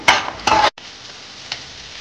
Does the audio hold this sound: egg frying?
yes